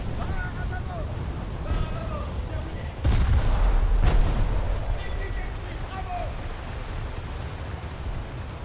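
Naval game warship guns firing, with a heavy cannon boom that rolls out over continuous ocean and engine wash, followed by a second sharp blast, while someone talks over the scene.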